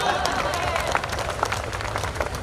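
An audience at a Diwali fair poetry gathering (kavi sammelan) in Udaipur claps, a dense, fairly loud spread of hands with some crowd murmur mixed in.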